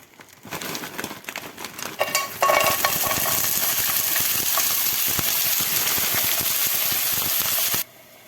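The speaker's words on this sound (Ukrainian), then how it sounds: "І трішки підсмажуємо ось такі овочі." A spring vegetable mix dropped into hot sunflower oil in a skillet, starting with rustling and crackling that swells into a loud, steady sizzle, then cuts off abruptly near the end.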